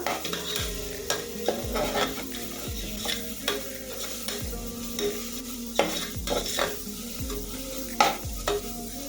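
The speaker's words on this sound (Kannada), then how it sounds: "ಇದ್ರು ಹಸಿ ವಾಸನೆ ಹೋಗುವವರೆಗೆ ಚೆನ್ನಾಗಿ ಫ್ರೈ ಮಾಡ್ಕೋಬೇಕು ಇದನ್ನ" Biryani masala frying in a pan for chicken biryani, with a constant close sizzle and regular scraping spoon strokes roughly once a second, some with a low thump, no one speaking.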